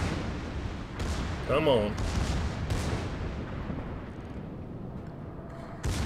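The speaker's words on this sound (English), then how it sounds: "Put my secondaries on him." Battleship secondary guns firing in World of Warships, a Russian tier-5 Pyotr Velikiy, heard as rumbling booms over a continuous low battle roar, with someone speaking briefly over it.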